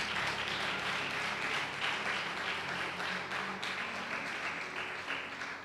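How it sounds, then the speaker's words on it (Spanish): Church congregation claps strongly and continuously in praise, a dense, even wash of many hands sustained for several seconds with a faint background hum beneath. "Denle un aplauso fuerte a Cristo."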